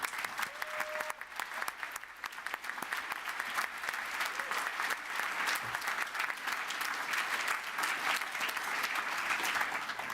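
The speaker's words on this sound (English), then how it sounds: "let's just pause there for a moment of applause for all of those who've already progressed" Sustained applause fills a hall during a University of West London graduation ceremony. Many hands clap steadily and evenly for about ten seconds, moderately distant, with no talking.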